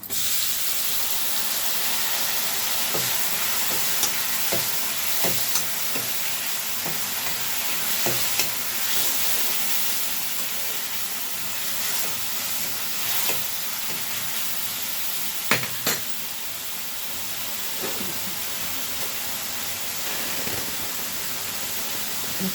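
Tomatoes and onions frying in a pan for a brinjal and dried fish curry, a loud steady hiss and sizzle broken by scattered sharp clicks of stirring, with no talk.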